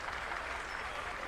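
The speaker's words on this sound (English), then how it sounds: "Crowd's giving him a big hand for getting up" Crowd in a college basketball gym applauding an injured player as he gets up, a dense continuous wash of clapping from the stands at moderate distance with a voice mixed underneath.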